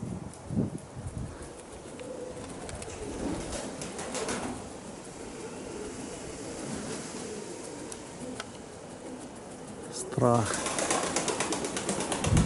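Pigeons flying in strong wind, a rough roar of gusts over the phone with scattered wing flaps, a burst of flapping near the end, and someone speaking briefly.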